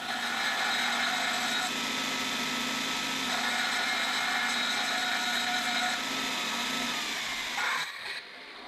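Belt sander grinding the cut end of a shortened bolt, a loud steady whirring drone with slight shifts in pitch as the metal is pressed, running continuously before cutting off at the end.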